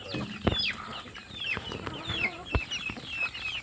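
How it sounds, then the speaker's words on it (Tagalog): Gamefowl chickens on a farm cluck and chatter nearby, with sharp irregular calls and a few louder bursts over quiet outdoor background. "At papakain po ulit tayo ng ating mga kakarels at saka baby pullets"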